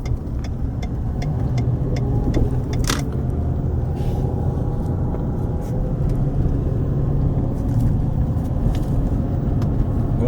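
A car drives up Linmar Hill along People's Drive in Aliquippa, Pennsylvania, heard from inside as a steady low engine and road rumble with a few faint ticks and rattles.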